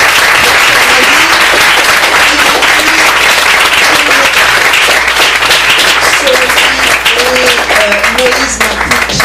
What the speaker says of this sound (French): Moi, ce que je veux vous demander, c'est d'applaudir chaleureusement.